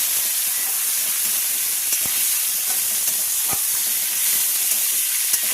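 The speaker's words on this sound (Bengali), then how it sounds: "দিয়ে একসাথে বড়ি আর বেগুনটাকে কিন্তু ভাজবো" Bori lentil dumplings and eggplant fry together in a pan of oil, making a continuous hissing sizzle at an even level, close and unbroken, with a couple of faint clicks and no talking.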